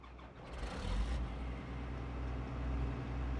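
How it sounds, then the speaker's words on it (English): A vehicle engine in a farming simulator game cranks and catches, then settles into a steady low rumbling idle that carries on alone through the rest of the moment. "Or maybe I have to go start the engine."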